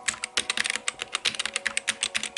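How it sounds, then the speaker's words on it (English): Rapid, steady typing on a nearby mechanical keyboard, each keycap bottoming out with a crisp clacky hit in a dense continuous stream, no voices. "the sound of the keycap hitting the board"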